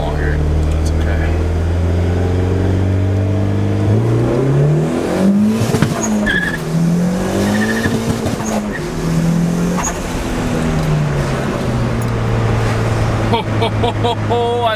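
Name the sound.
turbocharged Honda Civic EG hatch accelerating on test drive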